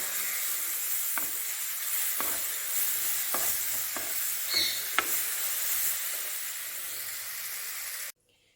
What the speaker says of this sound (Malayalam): ഇനി ഇതിട്ട് നമുക്ക് നല്ലോണം വഴറ്റി എടുക്കാം